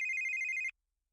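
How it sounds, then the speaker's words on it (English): A telephone rings with one sustained electronic trill for an incoming call, loud and close, then cuts off abruptly into silence. "I got a phone call from Chisa."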